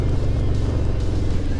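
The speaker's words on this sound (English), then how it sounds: "listening to the motor and the breeze and try not to hit people" A motorcycle engine drones steadily while riding in 30-40 MPH wind gusts, low rumble blended with loud buffeting wind noise, constant and close throughout the short stretch.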